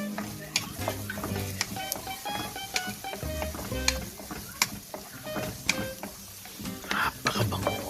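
Garlic and onions frying in a pan for pork giniling sizzle steadily as a spoon stirs and scrapes, with repeated sharp clinks of utensil against metal and occasional talk nearby.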